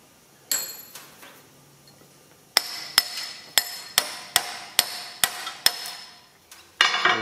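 Hammer blows breaking plastic away, a single hit followed after a pause by a regular series of about nine sharp close strikes, then a final scraping rattle.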